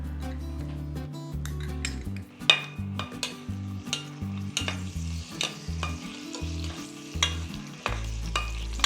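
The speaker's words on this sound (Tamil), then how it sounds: "நெய் சூடான அப்புறம் கொஞ்சம் முந்திரியும் திராட்சையும் போட்டுக்கலாம்" Cashews and raisins fry in hot ghee in a pan for a poppy seed payasam, with a soft, steady sizzle under repeated clinks and scrapes of a spoon stirring against the metal.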